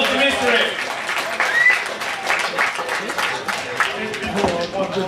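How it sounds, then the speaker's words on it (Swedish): A crowd at a Rock Band video game competition applauds and cheers, with dense clapping throughout and voices mixed in beneath it. "Och en stor applåd"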